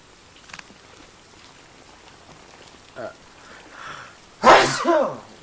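A game character sneezes in the horror video game Blair Witch, one loud close burst near the end over quiet ambient background with faint patter, followed by a brief trailing sound.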